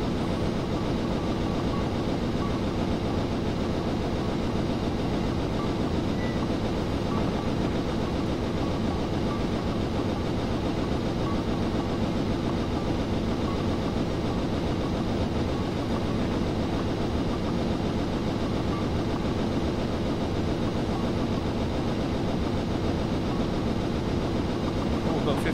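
A steady, loud rumble of a Union Pacific Big Boy steam locomotive in Train Simulator 2015 on Sherman Hill, continuous broadband roar with faint rail clatter and no break throughout.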